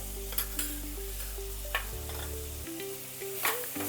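A spoon stirs spices such as turmeric, chili powder and coriander-cumin powder into paneer bhaji in a pan, with scattered scrapes and soft clinks over a low sizzle and a steady hum.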